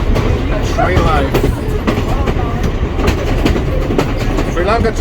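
Third-class carriage of a Sri Lankan train rolling along, with steady clickety-clack from the wheels on the rails and constant broadband rumble, and voices chatting in the background throughout.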